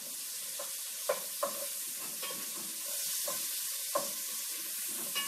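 Sausage sizzles and frys in a soup pot with leeks, a steady close crackle of hot fat broken by a few sharp pops and stirring scrapes, with no talk.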